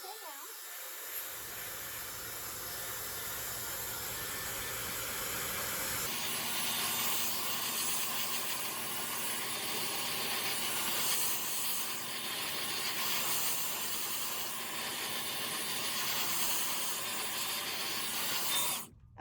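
A hair dryer blows hot air close over hair extensions, a steady loud whooshing rush that starts after a second, then grows fuller and louder midway and runs continuously until cut off at the end.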